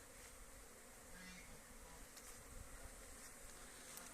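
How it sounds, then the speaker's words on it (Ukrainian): Honeybees fly out of sunlit hives on a mild January day, a continuous soft buzzing hum of many insects, faint and steady, with occasional louder passes nearby. "І обліт пішов повним ходом."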